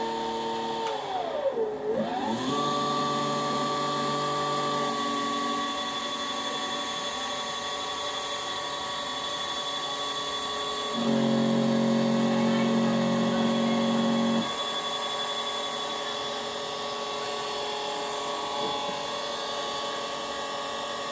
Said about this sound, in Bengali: এই দেখুন মোটর ঘুরছে